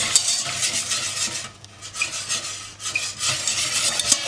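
A spoon or whisk stirs béchamel sauce in a pot, close rhythmic scraping and swishing strokes against the metal that pause briefly midway, then resume, with no one speaking.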